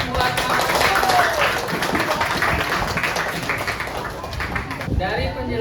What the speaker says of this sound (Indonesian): Beri tepuk tangan buat kamu